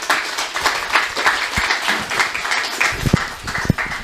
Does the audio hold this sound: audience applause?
yes